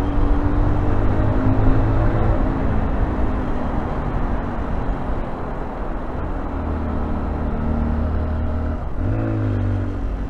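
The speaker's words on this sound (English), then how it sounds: "I love the sound in a tunnel, don't you?" Car traffic rumbles through a road tunnel, a dense, steady, reverberant roar of engines and tyres heard from inside a moving car, with a brief rise from a passing engine near the end.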